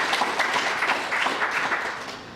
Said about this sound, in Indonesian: Sekali lagi kita tepuk tangan.